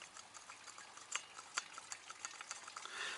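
Faint, irregular metallic clicks and light knocks, a chainsaw piston rocked left and right inside its cylinder close by, with soft hiss underneath.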